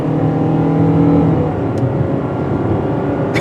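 A car's engine pulls under full throttle, a steady loud drone with a gradually rising pitch and tire and road noise underneath. The car is in sport mode, floored without burnouts, and no voices are heard.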